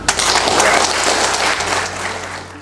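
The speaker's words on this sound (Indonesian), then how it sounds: "Tepuk tangan." A room of Democratic Party legislative candidates at a briefing in Denpasar claps loudly and steadily, a dense wash of hands that eases toward the end while a low steady hum runs underneath.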